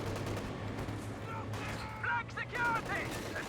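Bursts of small-arms fire and clattering combat sounds from a Company of Heroes 2 battle between a Soviet T-70 tank and a flak half-track, continuous and busy, under a commentator's voice.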